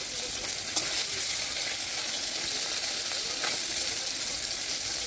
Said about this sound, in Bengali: আর এই দিকে দেখতেই পাচ্ছ মাছ আমার কড়াইয়ের মধ্যে দেওয়া হয়ে গেছে